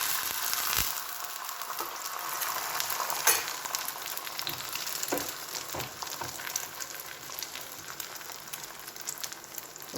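Beaten egg sizzling in hot oil in a pan, a steady close frying hiss with a few sharp crackles and utensil taps, no voices.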